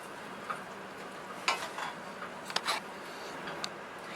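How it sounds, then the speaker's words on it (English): Meat and vegetables simmer in liquid in a pan for pancit, stirred with a few wet scrapes and light utensil clinks over a soft, steady sizzle. "Again, stir your meat and vegetables."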